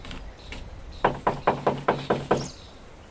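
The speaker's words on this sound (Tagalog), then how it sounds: "May kumakatok." A series of about seven sharp knocks on a wooden door in a Tagalog radio drama, moderately loud and close, in an irregular rhythm after a brief quiet lead-in.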